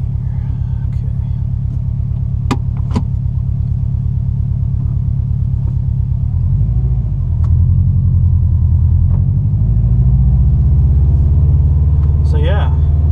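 A 2014 Subaru WRX engine rumbles low and loud close by, holding a steady idle that swells slightly partway through.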